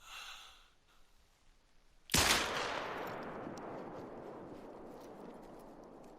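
A single sharp handgun shot, a Glock 10mm, goes off in a hunting video game after a quiet lead-in, its loud crack trailing into a long fading echo.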